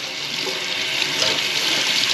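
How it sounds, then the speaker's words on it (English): Warm water pours steadily from a tap over a drain filter from a Fiat 124 Spider or Mazda MX-5 ND, giving a continuous, close hiss of running, splashing water with no talk. "So I'm just going to take warm water, hold this underneath it."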